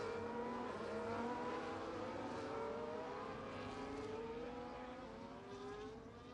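Race car engines in an F1 racing video game whine at high revs in a Spanish race, several overlapping pitches sweeping upward together, fairly faint and continuous with no talk.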